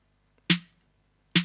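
Two crisp snare drum hits in an electronic beat, each a sharp bright crack with a short decay, spaced about a second apart over silence.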